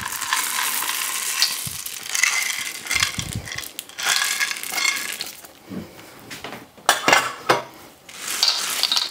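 Blueberry rum sausage meat is vigorously mixed by hand in a bowl, giving wet squelching, slapping and crushing sounds with occasional clinks, close and continuous with uneven bursts.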